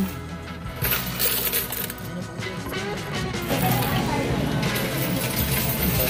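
Handfuls of coins clatter and jingle as they pour into a coin deposit machine, a continuous metallic rattle and churn with people talking over it.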